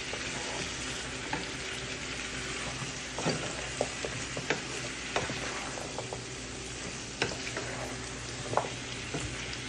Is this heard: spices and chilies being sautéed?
yes